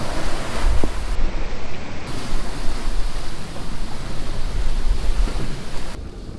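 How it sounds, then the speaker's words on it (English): Large storm waves surge and wash around a sailboat riding at anchor on two anchors, a constant roaring rush of water mixed with buffeting wind noise, loud and close with no talk. "So we're getting pretty big waves"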